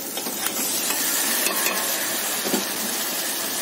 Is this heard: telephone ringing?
no